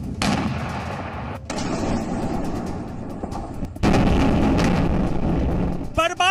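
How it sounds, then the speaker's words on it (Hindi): Explosions from a Russian missile attack on Kyiv, Ukraine, heard as heavy booming blasts and crackling bursts with sharp onsets, loud and reverberant, separated by brief gaps and ending in a burst of distorted noise. "यूक्रेन की राजधानी कीव में बड़ा धमाका हुआ, इसमें कई इमारतों को नुकसान हुआ है।"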